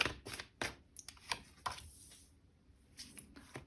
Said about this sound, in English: we're going to shuffle these tarot cards